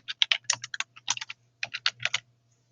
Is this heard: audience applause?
no